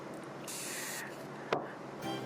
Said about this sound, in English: So I'm just taking some of my setting spray,